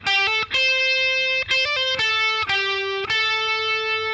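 Overdriven electric guitar plays the first bar of a solo, a phrase of distinct picked notes and double-stops with brief gaps between them. Each note sustains loud and close, with no other sound.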